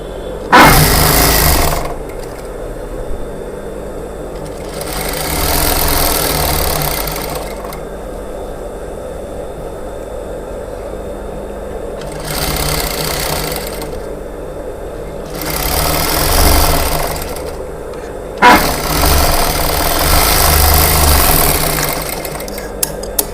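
A sewing machine stitches a plain blouse in several loud, steady bursts of rapid needle chatter, with short quiet pauses between runs as the fabric is repositioned.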